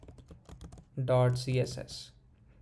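Computer keyboard typing while entering React code, a run of quick soft clicks at the start with a voice speaking over the middle of the clip.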